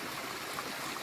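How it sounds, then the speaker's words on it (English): A small brook runs steadily through a wooded ravine on the Appalachian Trail, its water rushing in a continuous, even wash with no break over the short stretch. "There's a nice little ravine and a waterfall."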